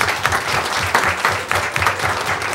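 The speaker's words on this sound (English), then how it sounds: "Let's give them a round of applause, please." A school board meeting audience applauds the drama team members with a loud, dense burst of clapping that stays steady throughout, with no speech over it.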